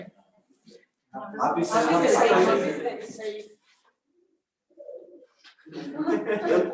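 Pigeons coo in soft, rolling bursts, with a pause between phrases and voices nearby.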